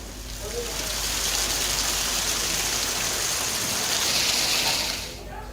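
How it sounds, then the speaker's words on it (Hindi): Heavy, steady rain pours down continuously during a downpour in Bettiah, Bihar, a dense unbroken hiss of water that holds at an even loudness for several seconds before easing slightly at the end. "लेकिन बारिश रुक नहीं रही और लगातार बारिश हो रही है"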